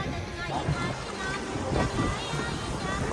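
A boat heading out to Tonsay island, Cambodia, gives a steady close wash of engine and water noise with wind, and voices talk over it throughout.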